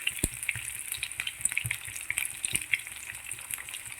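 Shallots, ginger and dried red chillies sautéing in hot oil for tomato chutney, a soft steady sizzle with scattered crackles and pops close by.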